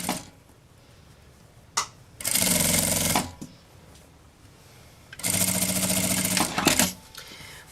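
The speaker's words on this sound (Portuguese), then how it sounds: "Coloco a beiradinha da telinha bem certinho com a beiradinha do tecido e passo uma costura aqui." A sewing machine stitches the edge of a mesh panel onto fabric for a travel cosmetic case, running in two loud bursts of steady, fast stitching separated by a quiet pause and a few brief clicks.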